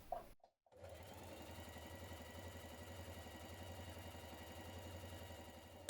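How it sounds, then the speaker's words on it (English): A sewing machine stitching a blouse sleeve seam, a steady rapid mechanical whir after a brief start, close and even, ending with a short click. "Now sew the other seam of your sleeve"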